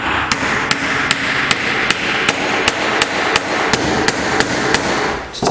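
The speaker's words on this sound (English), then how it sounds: "And use the mallet" A wooden mallet taps a mortise and tenon joint together, sharp, evenly spaced knocks, about fifteen in a steady rhythm, close and loud.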